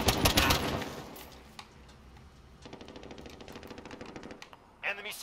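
FAMAS rifle firing rapidly in a video game: a loud burst of gunfire, then a steady run of quieter rapid shots and another loud burst at the end.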